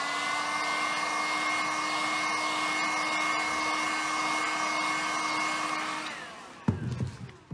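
Heat gun warming a strip of WoodUBend moulding, a steady loud electric blower whine with a constant tone for about six seconds before it cuts off, followed by brief handling clatter.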